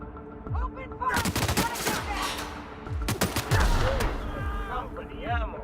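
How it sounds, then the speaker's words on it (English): Rapid bursts of gunfire and volleys of shots in The Outer Worlds, loud and close, with shouted voices and game sounds mixed through the fight. "Open fire! Open fire!"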